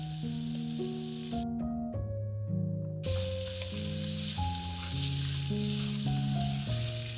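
Onion sizzles in a pan with spices and salt, a steady crackle held under a melodic tone that runs throughout. The frying briefly drops out partway through, then returns.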